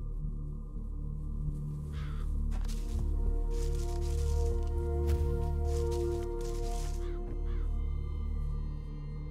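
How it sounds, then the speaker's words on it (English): A bird caws in the background of the X-Com: Enemy Unknown strategy game, a couple of faint short calls over a dense, steady ambient drone and game sounds. "Okay, that was just a bird."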